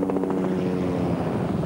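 A Soviet Mil Mi-8 helicopter in flight, its rotor thumping as a fast, steady chop over a continuous engine drone at moderate distance.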